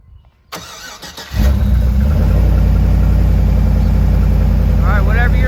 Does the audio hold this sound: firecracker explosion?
no